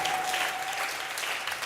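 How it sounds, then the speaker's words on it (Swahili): A church congregation claps together in a steady, continuous wash of applause, moderately distant and fairly soft, with no speech over it. "Ongeza tena hayo makofi"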